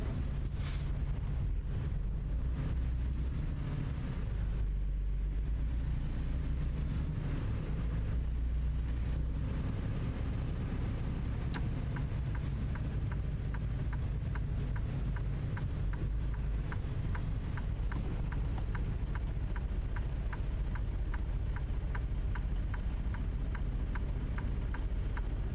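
Engine of a basic, un-upgraded Freightliner Cascadia truck in a trucking simulator game, a steady low drone running throughout with faint rhythmic ticking in the upper range, no talk.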